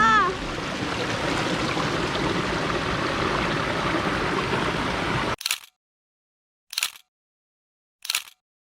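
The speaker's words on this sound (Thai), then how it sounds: "มันเป็นน้ำตกที่มีหินหลากสี" A stream rushes at a waterfall over multicoloured rocks, a loud, steady close wash that cuts off abruptly and is followed by three separate camera shutter clicks in near silence.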